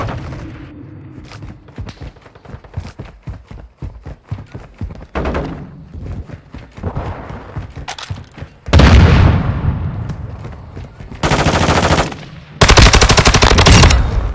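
Automatic and single gunfire in Call of Duty: Modern Warfare II multiplayer on the Santa Sena Border Crossing map, played on PS5: scattered shots and thuds early, then loud sustained bursts of rapid fire near the end, with game voice callouts between.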